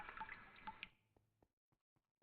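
Water dripping inside a Minecraft cave: a watery splash fades out, then single faint drips fall at spaced intervals in a quiet space.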